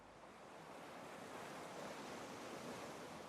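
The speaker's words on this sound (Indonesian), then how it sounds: "Ternyata di pantai itu ombaknya nggak seganas semalam mereka datang." Steady roar of ocean surf at a beach, dense and continuous with wind buffeting the microphone, no distinct breaks between waves.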